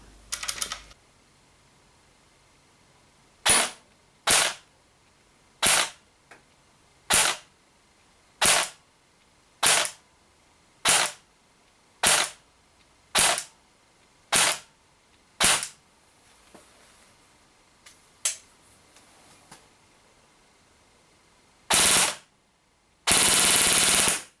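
A DYTAC SLR Airsoft Works Krink AK-style AEG rifle fires repeated short full-auto bursts, a dozen sharp rattling strings at steady spacing, close and loud with quiet gaps between them.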